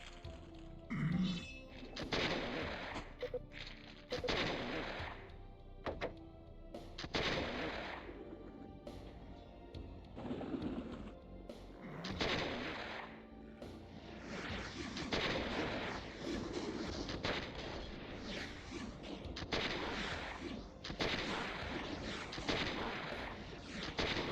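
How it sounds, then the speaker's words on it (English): A hand cannon fires again and again in the video game Abysm X, heavy booming blasts and thuds landing at an irregular rapid pace through a dense, loud stretch of combat. "Good old hand cannon."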